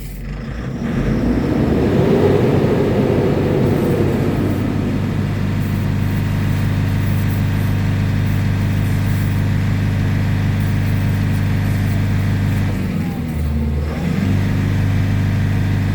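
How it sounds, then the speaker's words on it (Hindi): Tata 1012 BS6 truck engine with a low pickup problem revved up and then held, a loud, close mechanical drone that swells early, settles into a steady high-revving hum and briefly dips near the end. "अब इस गाड़ी को हम रेस करते हैं और फिर चेक करते हैं।"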